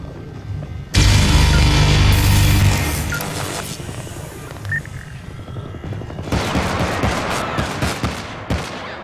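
Gunfire in the Syndicate co-op shooter game on its Colorado mission: a loud, sudden burst of rapid automatic fire, then a quieter stretch of scattered shots and clatter that turns back into a flurry of sharp shots toward the end.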